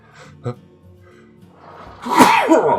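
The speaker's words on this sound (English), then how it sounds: "Give me one moment to sneeze, thank you." A single sharp sneeze bursts out near the mic, preceded by a brief catch of breath and quiet murmuring.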